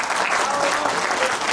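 A church congregation claps together at a pastor's call, a dense, close burst of applause holding steady for about a second and a half.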